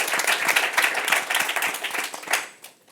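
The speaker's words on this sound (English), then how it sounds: "Let's have a round of applause for" An audience applauds a student speaker at a student event, steady dense clapping that fills the room and then thins out and fades near the end.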